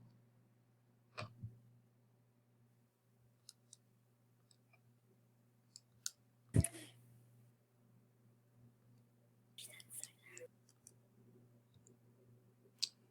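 Calculator keys pressed to enter numbers, a scatter of quiet, sharp clicks at irregular intervals over a low steady hum, with one louder tap in the middle and a short burst of clicks near the end; nobody talks.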